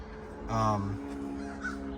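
Crows caw outdoors near a van detailing build, one loud harmonic call stands out around the middle against a steady background hum, with talk-level noise around it.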